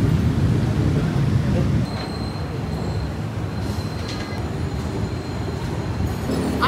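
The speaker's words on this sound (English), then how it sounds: "I think this is my train." A commuter train pulls into a station in Indonesia, its loud, steady rumble and faint wheel squeal filling the platform with continuous noise throughout.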